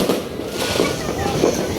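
New Year fireworks crackle and pop without pause in a residential neighborhood, a dense, steady roar of bursts close by, with voices audible underneath.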